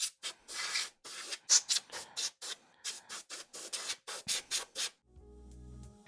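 Compressed air blown in a rapid series of short hissing bursts to clean semi-solid snare drum shells, close and fairly loud with brief gaps between them, ending in a lower, steady hum.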